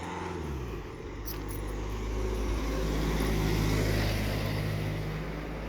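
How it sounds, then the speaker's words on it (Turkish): A car goes by on an empty residential street, its low rumbling roar swelling over a few seconds and then easing away, with no voices. "Ne araba geçti böyle değil mi oğlum?"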